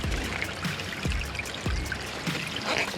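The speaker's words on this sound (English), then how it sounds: "The water's cutting through it, that's for sure." Floodwater pours and trickles through a layer of ice near a drain tile during Ohio flooding, a steady close flow with a few brief louder gushes.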